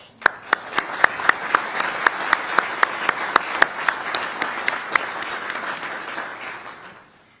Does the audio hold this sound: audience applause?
yes